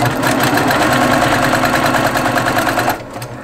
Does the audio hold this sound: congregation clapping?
no